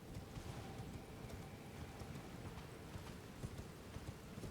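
Horse hooves clip-clop steadily in a fantasy video game while riding through Deeproot Depths, a continuous dense patter of footfalls at moderate level with no talking.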